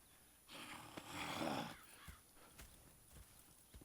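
A horse's hooves clip-clop softly in Red Dead Redemption 2, a faint, slow rhythm of scattered thuds with a brief snort or breathy rustle near the start.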